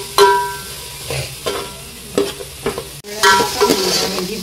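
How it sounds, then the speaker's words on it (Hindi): Onions fry in a little oil in a pan, a close, bright sizzle broken by spoon stirs and knocks, briefly dropping out near the midpoint before the crackle returns louder. "हांवें फोंड मारता कांद्याक थोडे तेल घालून फोंड मारपाचें."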